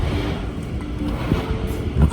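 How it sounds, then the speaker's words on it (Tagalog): Strong wind buffeting the microphone outdoors in Alaska just after an 8.2 magnitude earthquake; a continuous low, rumbling roar with gusty swells and no voices. "Lakas masyado ng hangin."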